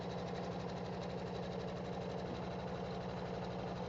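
An embroidery machine stitching a seam on a Kimberbell Tooth Fairy pillow, a fast, even mechanical chatter with a steady repeating pulse, close and continuous with no pauses and no talking.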